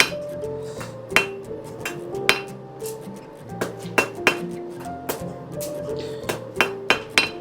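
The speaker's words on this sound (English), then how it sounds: "we're making a point on the end of this rod" A 1/4 inch steel rod is hammered to a point at a blacksmith's forge, with sharp ringing hammer blows landing in an irregular rhythm over a low background hum, close and loud.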